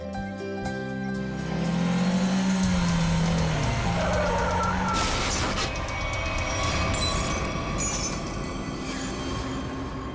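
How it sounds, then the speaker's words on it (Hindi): A car driven in reverse gear, its engine and rolling noise loud, steady and close for the whole stretch, with no talking. "गाड़ी को रिवर्स गियर में लो"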